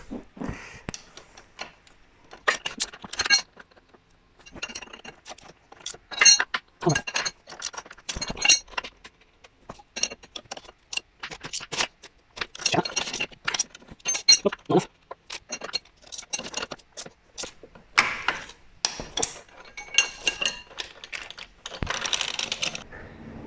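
Sharp, irregular metallic clicks and taps ring out as a motorcycle chain link is riveted during a chain and sprocket change, close and crisp over near-silent gaps.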